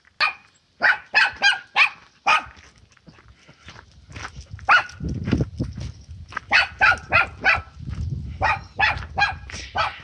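A dog, a female pet in a house with open doors, barks in repeated sharp bursts, loud and close, with pauses between runs and some low background rumble.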